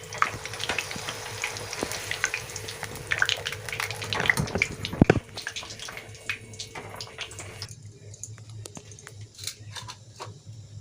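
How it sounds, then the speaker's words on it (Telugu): Sliced okra frying and sizzling in oil in a pan, a steady crackling hiss with occasional stirring clatter, loud at first and easing toward the end, with no talk over it. "బెండకాయ లైట్గా ఫ్రై చేసి తీసేయాలి."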